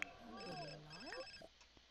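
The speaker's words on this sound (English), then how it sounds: "Whose phone's ringing?" A phone rings in the life-simulation game The Sims 4, a short tonal game ringtone over quiet background, lasting under two seconds.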